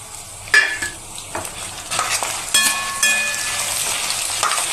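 Garlic and spices sizzle steadily in a pan while a spoon scrapes and clinks against the metal, with loud stirring bursts throughout.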